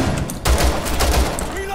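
Shotgun fire in Rainbow Six Siege, loud close blasts in quick succession that merge into a rough burst, with a voice speaking partly over them.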